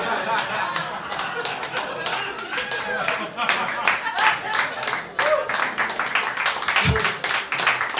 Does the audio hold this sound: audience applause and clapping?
yes